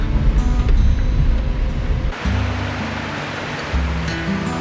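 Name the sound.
waterfall in a road tunnel in Georgia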